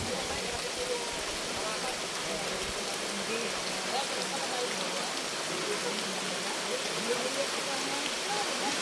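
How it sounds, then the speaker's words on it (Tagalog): Steady rain pouring down, a dense even hiss of drops on surfaces with no talking, continuous throughout. "Abutan pa kami ng ulan"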